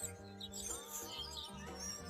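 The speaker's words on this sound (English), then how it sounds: "There must be 500-600 birds here in these trees." A flock of several hundred birds chirps in trees on a mild January day, faint scattered tweets and calls layered over one another at a distance.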